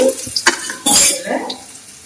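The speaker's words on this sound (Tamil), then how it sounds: "வதக்கிக்கலாம். பூண்டு நல்லா சேர்த்து ஆயிடுச்சு." Garlic sautéing in a pan, with a spatula scraping and clinking against the metal in short bursts over a light sizzle, close and fairly loud.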